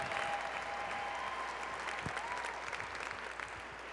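Audience applause for Michelle at an awards event, a broad, steady wash of clapping from a crowd, fairly distant and even in level, with no speech over it.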